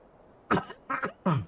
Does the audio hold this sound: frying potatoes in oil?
no